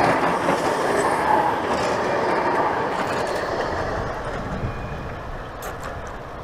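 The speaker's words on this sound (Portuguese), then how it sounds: "Esse metro aqui de Matozinhos, rapaziada, você corta o país aqui de um lado, o país." A Matosinhos metro train rumbles past with a continuous roar and rattling wheels, loud and near at first, then easing slightly as it moves off.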